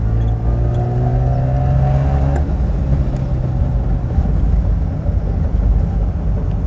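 A 360cc two-stroke engine in a 1974 Daihatsu Fellow Max kei car revs hard, its buzzy pitch climbing sharply then dropping back to a rough, loud drone that carries on steadily with no voices.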